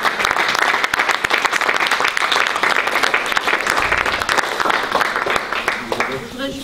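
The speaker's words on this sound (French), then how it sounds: "écoutez, on vous remercie, on peut vous applaudir." An audience applauds at the opening of a photo exhibition in Sélestat. Dense, steady clapping fills the room throughout and fades slightly near the end, with voices mixed in.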